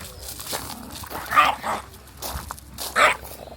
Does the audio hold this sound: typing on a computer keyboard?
no